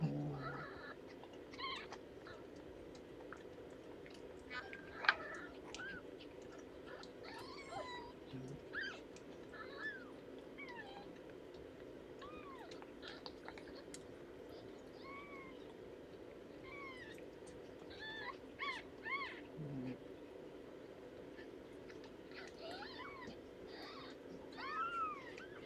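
Faint, scattered mewing from a feral cat's newborn kittens keeps surfacing over a low steady hum, brief high cries coming in clusters with quiet gaps and one sharp click midway.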